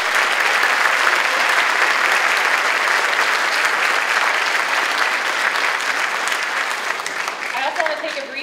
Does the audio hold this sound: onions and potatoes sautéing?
no